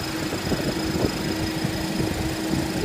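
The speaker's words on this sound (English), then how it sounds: "There's your little motor." A 2012 Ford Fiesta SE with a 1.6 liter engine idles nearby in a steady, even hum with a faint high whine and no talking.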